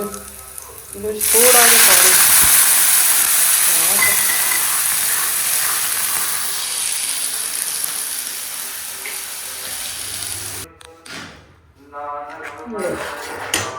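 Garlic frying in oil for a saag tempering, a loud hissing sizzle that surges at the start then slowly settles, ending in clatter and a voice talking over it.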